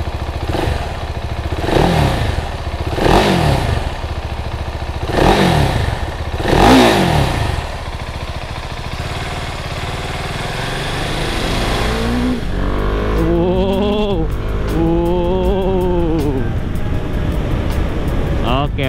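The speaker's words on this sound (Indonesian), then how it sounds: "Pertama, kita nyalain dulu. Kita dengerin suara mesinnya kayak gimana. 690 cc 1 silinder." A 690 cc single-cylinder motorcycle engine is started and revved, with several sharp blips that rise and fall in pitch, then a steady idle and further rising rev sweeps, heard close while someone talks.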